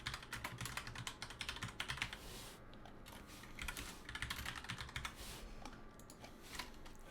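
Fast, uneven keystrokes clatter on a computer keyboard during a programming lecture, close and steady, with short pauses between bursts.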